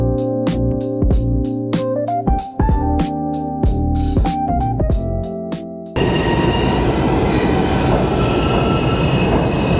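New York subway train heading toward Jamaica, Queens: rhythmic clattering of wheels over rail joints with tonal hum for several seconds, then a loud steady rushing roar as the car runs at speed, close and continuous.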